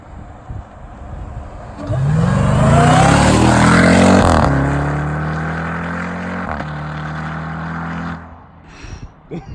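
A 2020 Jeep Trackhawk with a 707 hp V8 launches hard from 0 to 100 km/h, its roar rising loudly through the gears with brief shift breaks, then easing off to a steady drone before fading.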